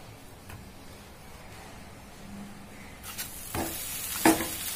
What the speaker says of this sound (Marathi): तर आपण इथे वरच्या साईडला देखील थोडं बटर लावून घेऊया आणि परतून घेणार आहोत